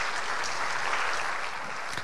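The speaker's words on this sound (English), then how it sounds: "Round of applause." Audience applause at a keynote talk on free software privacy at FOSSASIA, a steady dense clapping from a crowd that fills the whole short stretch without fading.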